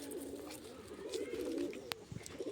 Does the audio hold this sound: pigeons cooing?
yes